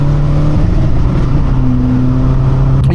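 A BMW 535d diesel engine revs from inside the car, a loud, steady, low drone with a faint rise in pitch that holds close and unbroken for a few seconds with no talk.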